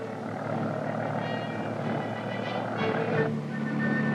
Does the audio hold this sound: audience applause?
no